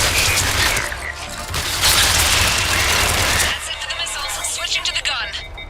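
Rapid bursts of vehicle-mounted gunfire in Mass Effect Legendary Edition, dense, sustained mechanical rattling close by that eases off toward the end, with voices speaking over the combat.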